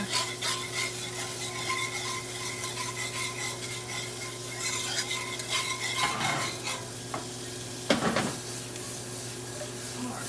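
Salmon sizzles and browns in butter in a pan, a continuous close crackle with occasional scraping and utensil clatter, no voices over it.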